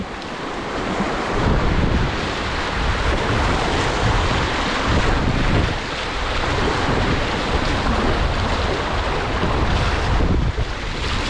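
Steady rushing water and surf splash around a floating boat on the Mulberry River, with wind buffeting the microphone throughout and no voices.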